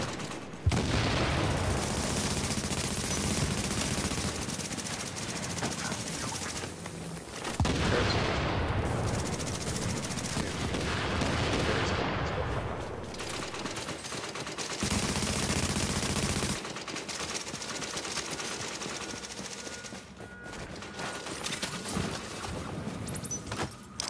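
Video game gunfire comes in dense rattling bursts and sustained automatic volleys, loud and close, separated by brief lulls and ending in scattered shots.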